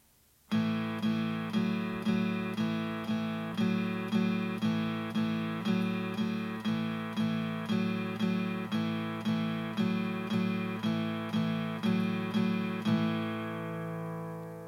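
An acoustic guitar strums two chords back and forth in a slow, steady rhythm, each strum ringing clearly, ending on a sustained chord.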